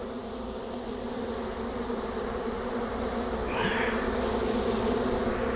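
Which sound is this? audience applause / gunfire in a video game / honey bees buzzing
honey bees buzzing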